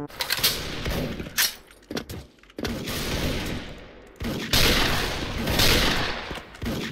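Rapid bursts of gunfire from the MSG-90 DMR rifle in the shooter game Special Force, loud and close, with several clustered volleys and short gaps between them.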